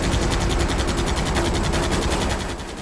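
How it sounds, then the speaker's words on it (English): Aircraft machine guns rattle in a loud, continuous rapid-fire stream in the air-combat game Air Conflicts: Secret Wars, with steady engine drone beneath and the burst easing slightly near the end. "the move trigger fires the machine guns"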